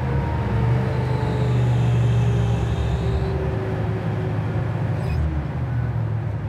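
A 1972 Chevy Nova is driven while downshifting into third, a loud continuous engine drone heard from inside the car, its pitch shifting gradually as the revs change, without any talk.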